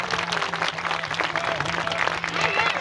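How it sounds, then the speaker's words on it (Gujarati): A crowd applauds at the inauguration of Dudha Bapa Dham temple during a mahayagna festival. The dense clapping is close and continuous, with a steady musical drone beneath it. "આ ઐતિહાસિક ક્ષણને જોરદાર તાળીઓથી વધાવો."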